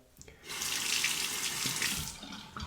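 A tap runs for about two seconds as a single-edge razor is rinsed, a close steady splashing stream that starts abruptly after a quiet moment.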